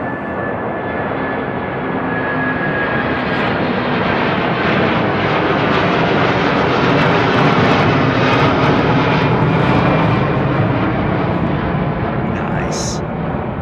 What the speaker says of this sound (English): So we do have a Cathay Pacific inbound, folks, 747,